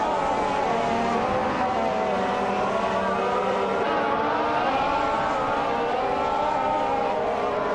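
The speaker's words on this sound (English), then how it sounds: "Amy is driving a Mercedes F1W05 hybrid, starting from the 15th position." Mercedes F1 W05 Hybrid race car in a racing video game, its engine holding a steady, loud high-pitched whine throughout with continuous shifting tones and no pauses.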